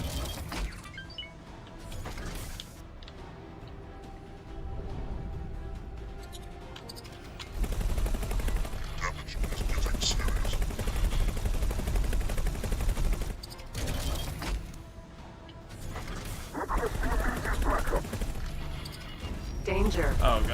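Gunfire and cannon fire in the space combat game X4, rapid bursts and crackling volleys layered over dense in-game noise, with a player talking throughout.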